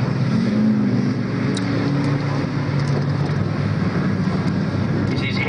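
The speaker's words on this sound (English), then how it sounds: "This is heat race number 2 of the Standard Saloons here at Midwestern Speedway" Standard Saloon race cars roaring around the Midwestern Speedway during a heat race, a steady dense engine drone heard from a distance, loud and continuous with no breaks.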